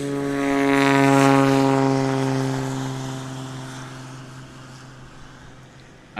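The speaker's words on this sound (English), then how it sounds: "Adam Gordon on the takeoff roll." A Cessna 185 taildragger on its takeoff roll at a STOL competition in Jennings, Louisiana: a loud, steady propeller engine drone that swells as it passes close, then fades gradually into the distance.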